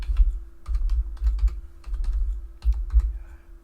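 Keys clatter on a computer keyboard in a quick, uneven run of close clicks while a display port name is entered in a Linux terminal, with short pauses between bursts and no voices.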